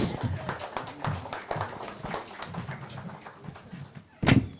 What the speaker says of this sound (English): A huge round of applause and a huge thank you from all of us